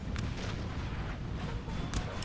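Artillery fire in the game Napoleon Total War, a continuous low rumble of distant cannon booms with a few sharper reports rising above it.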